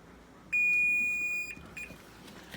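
A kitchen timer goes off with a single sustained electronic beep lasting about a second, followed by a short fainter chirp, clear and close in a quiet room.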